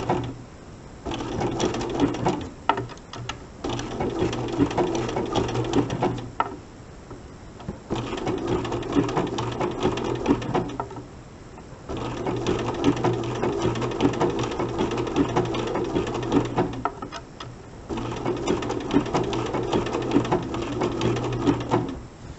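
A sewing machine runs buttonhole stitches around a machine applique, stitching in long steady bursts of rapid mechanical chatter separated by brief pauses, loud and close, with no talking.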